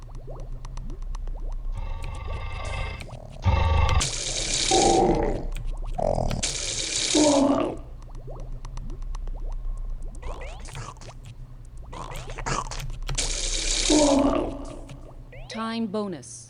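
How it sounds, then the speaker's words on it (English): Splashing water sounds from the video game Mud Splat in repeated bursts of gushing noise, with game tones and someone talking throughout. "my score is interrupted by splashing water"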